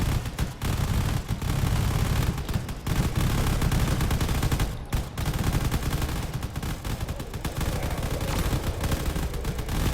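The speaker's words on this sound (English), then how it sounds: "There's a lot of cannon shots coming in, which is not healthy" Dense, continuous barrage of cannon fire and explosions in a desert battle of the video game Drone Wars, heavy booms overlapping without pause, loud and close throughout.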